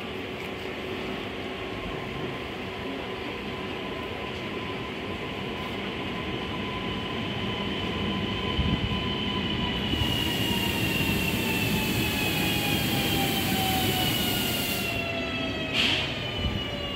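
A regional passenger train bound for Świnoujście rolls into a small two-platform station. Its low rumble grows louder as it nears, with long drawn-out squeals of wheels and brakes sliding slowly in pitch.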